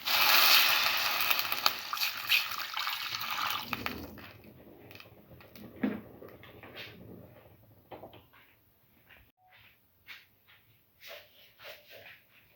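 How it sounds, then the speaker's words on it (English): Water pouring into a pot for a pumpkin milk dessert soup, a loud rushing pour for about four seconds, then quieter clinks and handling sounds. "Now pour in 150 ml of water."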